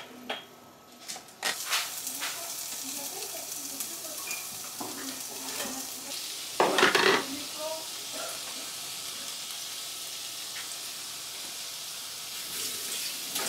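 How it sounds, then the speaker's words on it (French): Onions and shrimp sizzling in a pan give a faint, continuous frying hiss with light stirring, one louder clattering burst partway through, and soft kitchen noise around it. "Je vais mettre ensuite mes oignons et mes crevettes."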